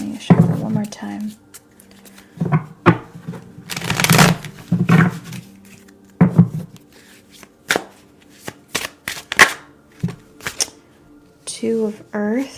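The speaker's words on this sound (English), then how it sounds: "Tiny shuffle one more time." Tarot cards riffle and slap together in quick bursts of crisp shuffling, close and loud, with brief pauses between the rounds.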